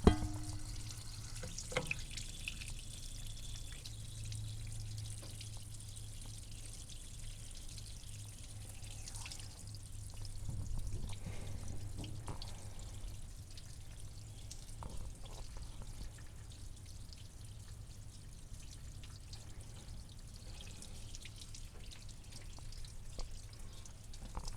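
Coolant draining from an overheating 1968 Dodge Charger into a catch pan, a faint steady trickle with scattered drips under a low background hum, no voices.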